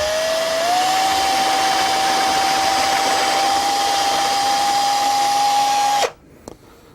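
A power drill fitted with a quarter-inch flat spade bit bores a hole, a steady high whine holding for about six seconds before cutting off abruptly, followed by a faint knock.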